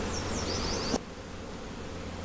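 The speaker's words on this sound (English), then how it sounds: "you tip the bees into one end and then pour them into the scoop" Honey bees buzz loudly as they are tipped into a scoop, a dense close swarm hum that drops abruptly to a quieter steady drone partway through.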